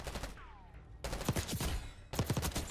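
XM4 assault rifle fired in the video game Black Ops 6, rapid automatic bursts in three short strings separated by brief pauses, fairly close and sharp.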